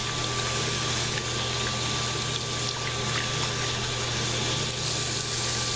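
Steady broadband rush of tap water running over a makeup sponge during rinsing, continuous and fairly loud with no talking, a faint constant hum beneath it.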